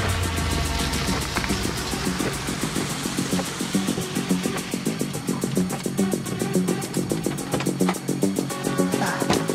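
Car engine labouring while the vehicle is towed out of mud, a steady loud mechanical drone with rapid rhythmic pulsing and some revving swells, heard close and continuous.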